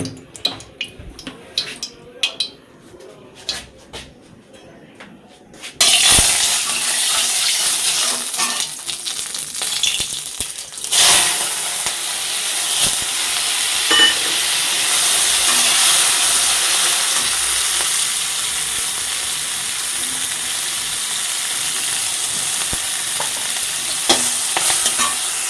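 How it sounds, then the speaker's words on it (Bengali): Fish frying in mustard oil in a home kitchen: a loud, steady sizzle starts abruptly partway through and continues without a break, with occasional stirring clatter and a quiet stretch before it. "দিয়ে দেবো সর্ষের তেল, আগে মাছটা ভেজে নেব।"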